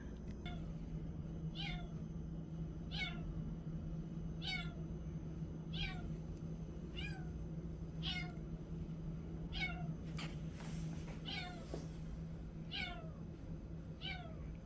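A hungry cat meows in a steady series of about a dozen evenly spaced calls, fairly faint and somewhat distant over a low background hum.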